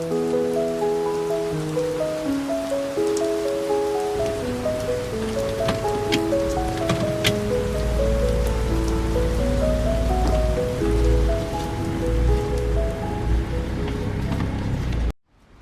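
Steady rain falling, a dense continuous patter with occasional brighter drops, heard under sustained tonal music throughout.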